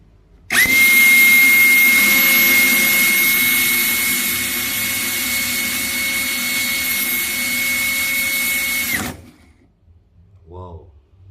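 A DCA ADJZ2060i power tool held at full trigger roars loud and steady for about eight seconds with a high whine, then spins down and stops, followed by a brief voice.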